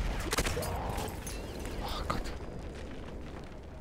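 A grenade blast in Battlefield 1 gameplay, a sharp burst followed by rumbling debris and scattered gunfire, loud and close, fading after a few seconds into quieter battlefield ambience.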